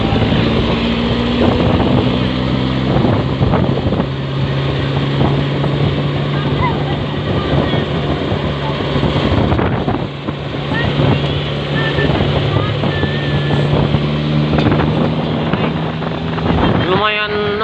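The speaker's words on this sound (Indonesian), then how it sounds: "Coba teman-teman kita dengarkan dulu suara mesinnya ya." A Mitsubishi L300 truck used for hauling palm oil fruit idles steadily close by, a constant low engine drone with outdoor wind noise throughout.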